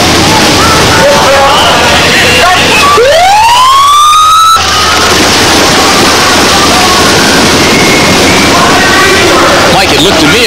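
A starting siren for the ocean swim of the 1988 Oceanside, California triathlon rises in a loud upward wail over steady crowd and surf noise, then cuts off after about two seconds while the background roar continues.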